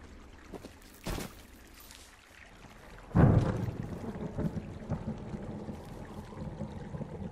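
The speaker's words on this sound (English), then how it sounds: "Hey, I heard some thunder." Thunder rolls over a forest lookout in the video game Firewatch: a distant crack, then a louder rumble that builds and lingers, deep and grainy, with no speech.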